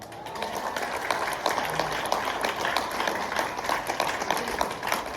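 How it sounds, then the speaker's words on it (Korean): Congregation clapping in praise during an Easter thanksgiving service at a foreign language high school, a steady dense wash of applause that runs the whole time at an even loudness. "주님을 박수로 찬양하십시다."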